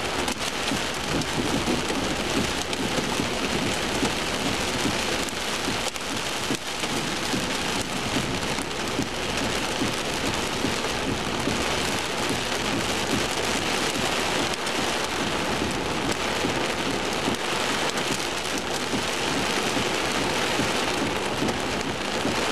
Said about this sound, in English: We got hail popping everywhere. You probably hear it. Big stones popping everywhere.